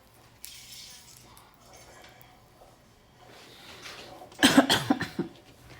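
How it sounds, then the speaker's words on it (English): A burst of harsh coughing near the end, loud and close, after a stretch of quiet rustling. "Sorry for the coughing, y'all."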